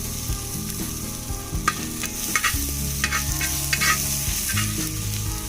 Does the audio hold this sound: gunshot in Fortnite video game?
no